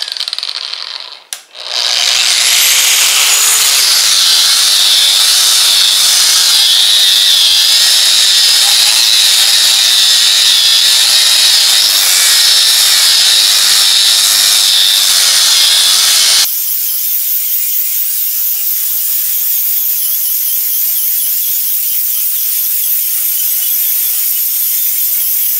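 Truper ESMA-45110 variable-speed angle grinder sanding, a loud steady high-pitched whine that starts after a brief clack, runs continuously, then drops to a quieter spin-down hum.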